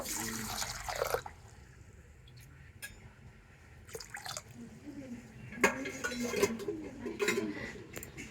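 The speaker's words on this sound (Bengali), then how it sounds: "সাবুদানার মধ্যে একটু জল দিয়ে দেব" Water is poured into a large bowl of sago pearls, giving faint trickling and dripping with a few soft clinks against the bowl, quiet and close, with light background noise.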